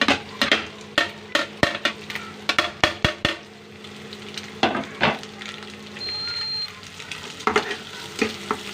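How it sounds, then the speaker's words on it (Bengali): Chopped boiled eggs and onions fry in a pan with a constant soft sizzle, broken by a quick run of sharp utensil taps and scrapes against the pan, close and without talking. "পেঁয়াজের সাথে ডিমগুলোকে একটু লাল লাল করে ভাজবো।"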